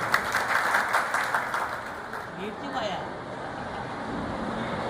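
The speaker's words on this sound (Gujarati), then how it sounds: "તાળીઓથી આપણે વધાવ્યું." A crowd at a Patan Gol Lohana Samaj general meeting claps for about two seconds, then the applause fades into hall ambience and talking.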